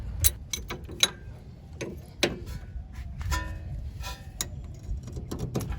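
A wrench tightens a tie rod with a series of irregular metallic ratcheting clicks and ticks, close and fairly quiet over a low rumbling background.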